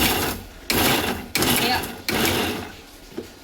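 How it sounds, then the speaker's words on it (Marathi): A mixer grinder coarsely grinds garlic, green chilli and cumin without water in short pulsed bursts. Four loud, close whirring runs are separated by brief pauses. "मिरची लसूण आणि जिऱ्याचं आता जे मिश्रण आहे तर ते आपल्याला मिक्सरमधून ओबडधोबड काढायचं आहे, पाणी न टाकता"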